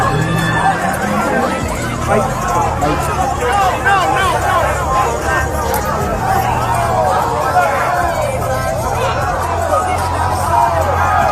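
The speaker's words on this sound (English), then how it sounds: "People cheering it on." Crowd cheering and shouting around a street fight in Cincinnati, a dense continuous roar of many voices with steady hubbub throughout and no single voice standing out.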